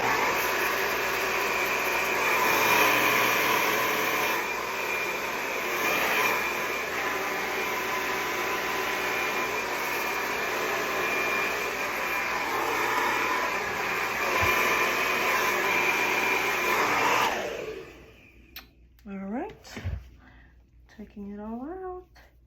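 A handheld hair dryer runs on medium heat at full speed with a loud, steady whooshing roar that cuts off abruptly, followed by a few short voiced sounds.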